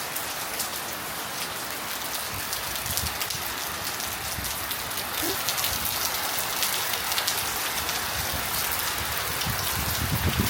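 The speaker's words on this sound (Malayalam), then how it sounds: "നല്ല കാറ്റും മഴയാണ്" Steady heavy rain pours in wind, a dense unbroken hiss of drops drumming on surfaces for the whole stretch, loud and close with no voices.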